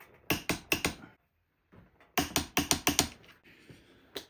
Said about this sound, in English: Now these bolts, you got to tighten them down to 35 foot-pounds